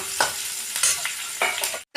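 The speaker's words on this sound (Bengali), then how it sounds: "পেঁয়াজগুলোকে ভালো করে ভেজে নেব।" Onions sizzle in hot oil left over from frying eggs, with several scraping stirs of a spatula across the pan over a steady crackle, then a brief pause before the sizzle resumes.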